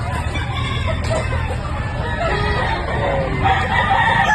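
Gamecock roosters crow at a farm along with scattered clucking, several birds calling over a dense, steady background of noise and indistinct voices.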